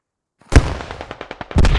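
In-game gunfire and a frag RPG blast: a sharp close bang, then a rapid run of about eight crisp shots, and a second heavy burst at the end, loud and unbroken by talk.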